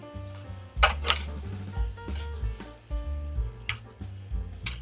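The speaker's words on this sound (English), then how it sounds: "Stir each time until the rice absorbs all the liquid." Asparagus risotto rice is stirred in a pan, with a soft bubbling simmer broken by several sharp spoon scrapes and clinks against the metal, close and irregular, with no voices.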